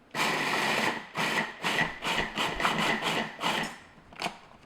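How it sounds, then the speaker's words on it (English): A food processor pulses to mix dry ingredients for date squares, with about nine short, loud whirring bursts in quick succession and a last brief pulse after a pause. "So I'm just going to pulse just to mix all the ingredients together."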